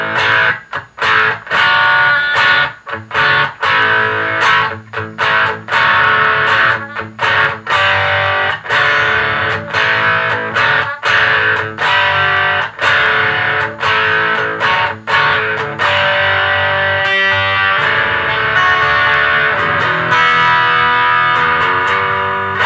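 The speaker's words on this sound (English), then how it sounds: "let's put some distortion on and see what happens" Heavily distorted electric guitar, a custom vintage Kramer with original 1980s EMG pickups and a Floyd Rose, plays loud, sustained chords and riffs with brief stops, alone and without any talking.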